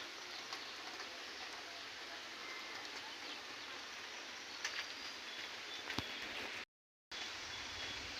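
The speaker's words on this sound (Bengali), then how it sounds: "সকাল থেকেই গুড়ি গুড়ি বৃষ্টি হচ্ছে" Soft, steady patter of light rain falling outdoors, a continuous gentle hiss with occasional faint drips and distant bird chirps.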